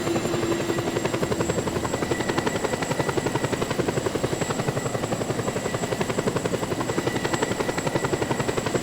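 A video game helicopter's rotor thumps in a steady rapid pulse with a whining engine tone, loud and close, holding constant throughout, in Just Cause 2.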